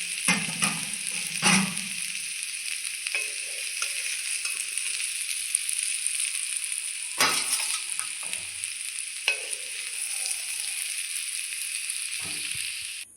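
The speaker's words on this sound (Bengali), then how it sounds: "পেঁপে আর আলু আমি ভেজে নিয়েছি। তো এখন পেঁপে আর আলু আমি উঠিয়ে নেব।" Papaya and potato pieces fry in hot oil in a karai, giving a steady close sizzle broken by occasional scraping and clinking stir sounds, with no voices.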